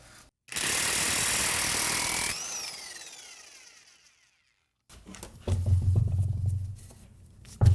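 A loud corded half-inch-drive impact wrench rattles in a sustained burst, winds down and stops, then short bursts of buzzing tool noise follow.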